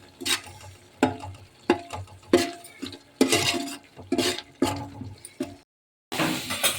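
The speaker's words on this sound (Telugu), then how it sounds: "ఆనియన్స్ పచ్చివాసన పోయేంత వరకు వేయించుకోవాలి" Onions frying in oil in a pan give a close, steady sizzle broken by repeated bursts of stirring and scraping, with a brief silent gap near the end before the sizzle returns.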